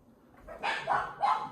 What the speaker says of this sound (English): I apologize for my dogs barking.